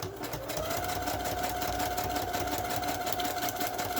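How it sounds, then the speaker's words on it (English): Sewing machine running a zigzag stitch on collaged coffee-dyed parchment paper, a fast steady mechanical whir and clatter, close and continuous after a brief start-up. "I know the sewing machine's going to be loud"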